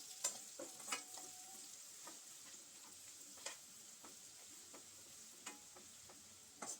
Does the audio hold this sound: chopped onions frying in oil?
yes